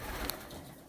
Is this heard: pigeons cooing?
yes